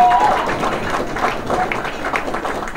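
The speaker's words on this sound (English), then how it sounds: "Let's give her a round of applause." An audience applauds steadily at a Woman of the Year award event, dense clapping filling the room at a fairly loud, even level with a faint voice briefly audible.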